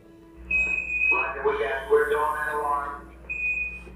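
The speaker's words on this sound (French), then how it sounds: "Et c'est justement une alarme de l'ordinateur." A spacecraft computer's steady high-pitched 1202 alarm tone sounds, drops out while a voice talks over it, then returns.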